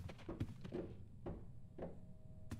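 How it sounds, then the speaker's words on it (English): Knocking in the Roblox horror game Doors: a cluster of hollow thuds comes first, then a few more spaced-out knocks land at irregular intervals against a quiet, dark background. "What was that knocking noise?"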